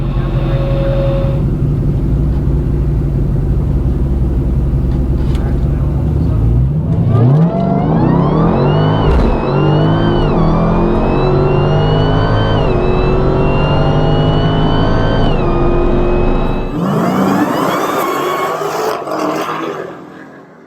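Dodge Demon and another drag car launching side by side at Beach Bend drag strip: engines idle, then roar up through rising revs and gear changes, loud and close, before fading as they pull away.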